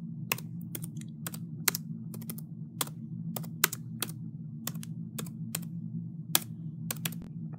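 Typing on a Chromebook keyboard: a quick irregular run of light plastic key clicks, close by, over a low steady hum, with no one speaking.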